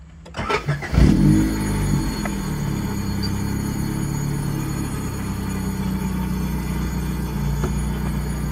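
A car engine cranks with a few quick bursts, catches at about one second and settles into a loud, steady idle with a persistent odd tonal hum and rattle, heard close with no talking.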